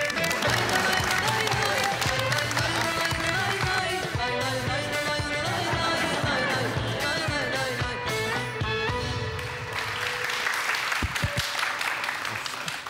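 A studio audience on a Turkish comedy talk show claps loudly and steadily, the applause running the whole time beneath upbeat music as a guest is welcomed on stage.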